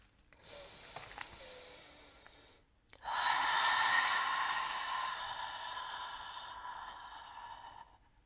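Audible breathing during a core exercise: a soft breath, a brief pause, then a long, loud exhale that slowly fades, heard close up without talk.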